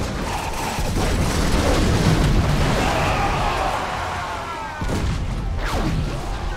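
Ship cannons boom in a pirate video game set in Tortuga, a string of heavy blasts and rumbling impacts over a steady roar of sea and battle noise, close and loud, with no speech.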